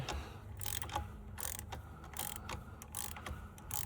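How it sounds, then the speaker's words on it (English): A ratchet with a 30mm socket clicks in quick repeated strokes while pulling an injector from a BMW M57 diesel engine, close and fairly quiet, in an irregular rhythm. "30mm socket on top of it, and you just start pulling until it releases"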